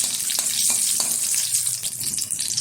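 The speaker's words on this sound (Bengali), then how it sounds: "এখন এই তেলে দিয়ে দিচ্ছি কিছুটা গোটা গোলমরিচ, দিয়ে দেবো দুটো শুকনো লঙ্কা, দিয়ে দিচ্ছি একটা তেজপাতা।" Whole peppercorns, dried red chilies and a bay leaf fry in hot oil for a country chicken curry, giving a steady loud sizzle with crackling pops, close and continuous, with no talking.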